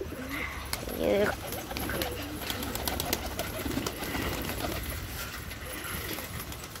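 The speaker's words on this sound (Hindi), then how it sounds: "ये कबूतर है।" Pigeons coo softly in the background among outdoor noise and rustling, while a person talks over them nearby.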